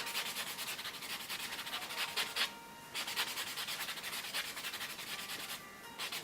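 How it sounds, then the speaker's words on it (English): Fingernails are buffed smooth during an SNS nail refill, giving a close, rapid back-and-forth rubbing with brief pauses between strokes. "With this product, you don't need to buff a lot. Just well enough to make it smooth"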